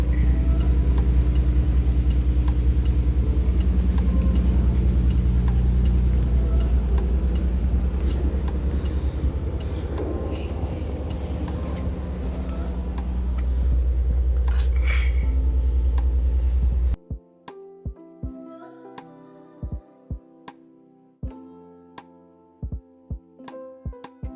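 Nissan 300ZX Z32 engine starting cold and settling into a loud, steady idle, then cutting off abruptly, leaving a few scattered clicks and knocks.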